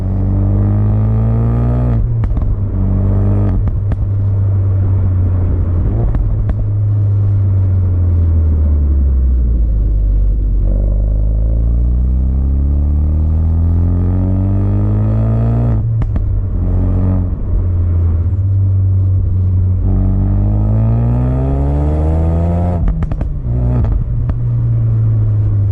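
A Ford Focus RS being driven hard, its engine revving up and down through gear changes in a loud, close rumble, with sharp crackling exhaust pops bursting out between shifts.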